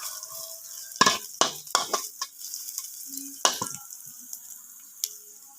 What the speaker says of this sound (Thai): กระเทียมกับพริกค่ะวันนี้เลยใช้พริกแห้งนะคะ ผัดให้หอมหอม กรอบๆซะก่อน